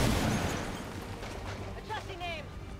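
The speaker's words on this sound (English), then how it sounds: "put some bullets into the Andromedon" Gunfire aimed at an Andromedon in the video game XCOM 2, with a loud blast opening and then fading, followed by quieter rattling and debris sounds under the game's ambience.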